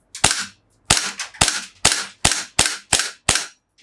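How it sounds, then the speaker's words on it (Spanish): A Desert Eagle CO2 air pistol fires eight single shots, each a sharp loud crack with a short decay. They come in an irregular, fairly quick sequence about half a second apart, close and alone with no talking. "Tiro a tiro, estoy disparando tiro a tiro"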